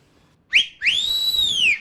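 A police whistle gives one short sharp blast, then a longer, steady, shrill tone that fades slightly at the end. It is loud and close, with nothing else heard.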